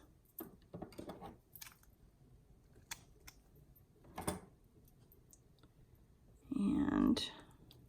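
Scissors cutting a length of leaf ribbon up close, a few light snips and clicks followed by a louder, longer rustle near the end, with a quiet room around it.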